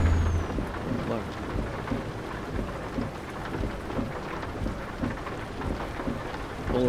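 Rain and thunder in Euro Truck Simulator 2 on a drive from Rennes, France, with steady heavy rainfall and rolling rumbles of thunder throughout, at constant volume.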